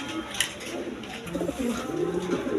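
Domestic pigeons, a pair of Spangle-coloured Modena birds kept for sale, coo in low, throaty repeated calls that sound close and steady, with a faint voice in the background.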